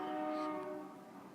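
A train passes nearby while its horn blares in steady sustained tones, the loud blast easing slightly as it continues alone.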